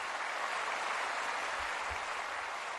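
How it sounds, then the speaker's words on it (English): Studio audience giving a radio show guest a round of applause, a steady dense wash of clapping that holds evenly throughout at moderate level, with no voices. "Let's go ahead and give Mr. Campbell a round of applause."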